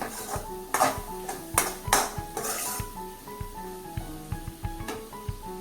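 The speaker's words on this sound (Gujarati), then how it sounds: "ચણાના લોટને સાંતળી લેવાનો તેલની અંદર અને ત્યાર પછી તરત જ આપણે મિક્સ કરતું જવાનું બધું" Gram flour sautés in oil in a metal pan while a spoon stirs it, scraping and clanking against the pan in quick irregular strokes with a faint sizzle and ringing pings.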